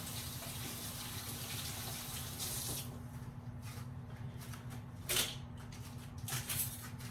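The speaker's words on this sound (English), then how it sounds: "I'll wash my hands one more time." Hands are washed under a running kitchen tap, a soft steady stream of water splashing into a sink, fairly quiet and close, with brief louder splashes as the hands move under the flow.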